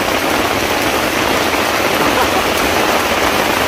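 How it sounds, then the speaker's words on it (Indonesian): Heavy rain pours onto a tent in the middle of a dense forest on a camping trip, a loud, steady, unbroken wash of drumming drops that fills the whole moment with no pause. "Hujannya keras sekali."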